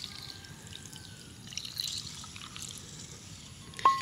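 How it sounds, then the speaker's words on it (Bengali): Milk is poured from a bowl into semolina while making motichoor laddu, giving a faint, soft trickling pour under quiet room noise that ends with a small clink. "সেই বাটিরই 1 বাটি দিয়ে দেব দুধ"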